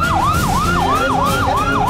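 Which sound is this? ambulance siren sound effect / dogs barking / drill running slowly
ambulance siren sound effect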